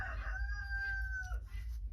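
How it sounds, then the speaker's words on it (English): A rooster crows once, a clear drawn-out call at moderate distance, over a low background rumble. "pardon the rooster"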